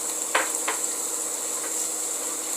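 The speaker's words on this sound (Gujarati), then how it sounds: "ભીંડા થોડાક અધકચરા ચડી જાય પછી એની અંદર ડુંગળી એડ કરી દેવાની" Okra and onion fry in a pan for crispy bhindi, giving a steady, close hiss of sizzling oil broken by a couple of quick stirring scrapes.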